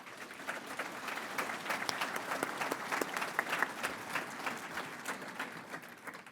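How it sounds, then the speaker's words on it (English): A college commencement audience gives a sustained round of applause, many hands clapping at once, heard from a distance and fairly faint, with no voices standing out. "Let's give them all a round of applause."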